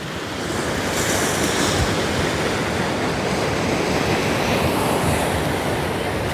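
Ocean waves rolling onto Copacabana beach near Posto 5 in Rio de Janeiro, a loud, steady wash of surf mixed with wind rumble on the microphone.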